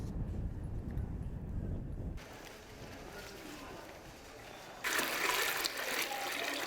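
Seawater drains out of a salt-making filter pit on a tidal mudflat, a continuous wet trickle and gurgle that shifts in character and grows louder and brighter near the end.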